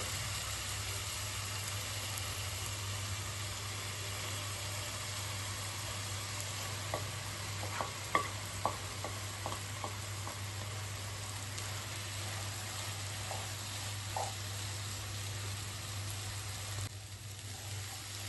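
Boiled rice is stirred into tomato masala in a pan over a faint, steady sizzle and a low hum. A short run of soft spoon scrapes and clicks comes midway, then a couple more later.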